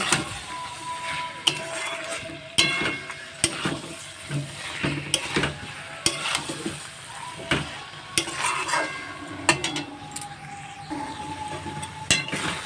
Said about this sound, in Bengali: এখন আমি এর মধ্যে ভেজে রাখা মাংসগুলো দিয়ে দেব দিয়ে আমি ভালো করে নেড়ে চেড়ে কষিয়ে নেব